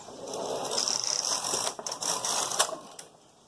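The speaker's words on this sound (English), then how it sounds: "we'll let the carriage knit back from hold" A knitting machine carriage runs back across the bed from hold, giving a steady mechanical clatter and ratcheting whir for a few seconds, with no talking.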